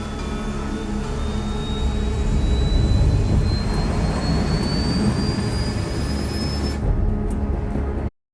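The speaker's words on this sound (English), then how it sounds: "All this plane could do was take off, accelerate, and fly up." A jet fighter in Ace Combat 7 roars steadily as it takes off and accelerates, a loud continuous engine rush with a rising whine that cuts off abruptly near the end.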